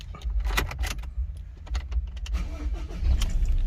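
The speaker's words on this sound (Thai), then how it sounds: "สตาร์ตติดใช้งานได้เหมือนเดิมนะครับ" Ford Ranger engine cranking and catching after the key is turned, heard close inside the cab, with a short burst of starter noise before it settles into an idle.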